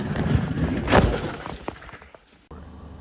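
Glass breaks and shatters as a Chinese water cannon blast strikes the window of a Philippine vessel, a rough, washing crash heard from up close that fades into quieter noise.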